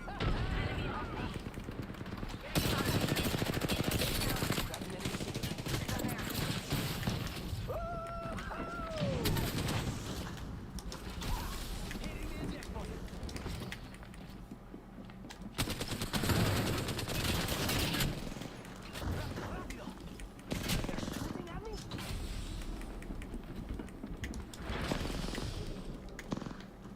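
Gunfire in a shooter video game comes in repeated bursts and rattling volleys, loud and dense, with a voice talking over parts of it and brief lulls between exchanges.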